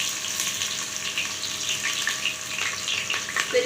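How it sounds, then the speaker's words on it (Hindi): Onions fry with cumin seeds in a pan, a steady close hiss of sizzling oil with faint crackles and light spatter throughout. "फिर यहाँ पे हमने अपने प्याज डाल लिया है"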